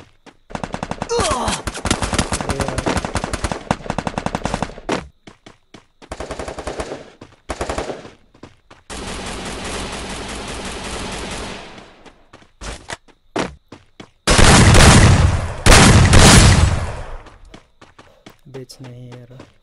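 Gunfire in a PC video game: bursts of rapid automatic shots come in loud clusters with short gaps between them, and a heavier, louder volley follows near the end.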